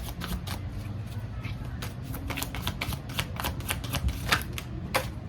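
Tarot cards are shuffled in quick, rapid riffles, a dense run of crisp clicking flutters that repeats continuously at close range over faint background music.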